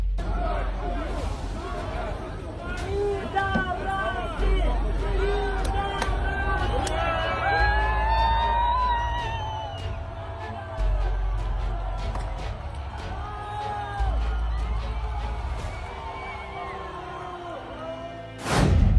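A crowd gathered around a Russian tank cheers and shouts while a man waves the Ukrainian flag on it, a dense, continuous outdoor hubbub of many voices with rising whoops and yells, loud and close throughout.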